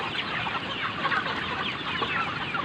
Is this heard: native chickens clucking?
yes